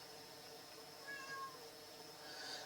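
A pet cat gives a faint, short meow over a quiet indoor background, heard alone without talking.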